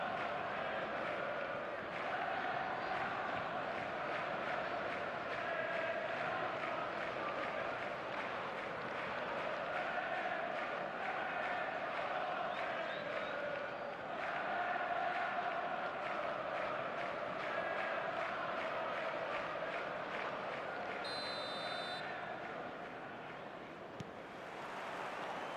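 A near-capacity stadium crowd in a football video game keeps up a steady, broad roar throughout, with faint tonal chant-like swells and a brief high electronic beep late on.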